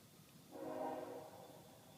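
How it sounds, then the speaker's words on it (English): A train heard far off from an open hilltop glade, a faint low rumble and horn-like tone swelling briefly then fading under quiet outdoor air. "I can hear a train off in the distance."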